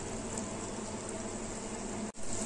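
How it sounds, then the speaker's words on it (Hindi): Mathri deep-frying in oil over medium heat gives a steady, even sizzle and bubbling hiss that runs unbroken throughout, interrupted only by one brief dropout near the end. "मटरी को मीडियम आंच में डीप फ्राई करेंगे।"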